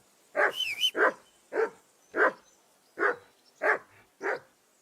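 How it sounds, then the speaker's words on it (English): A dog barks repeatedly in Kingdom Come: Deliverance II, seven sharp, evenly spaced barks at close range, the first run together with a brief yelp-like rise, over near silence. "That barking was a pain in the ass."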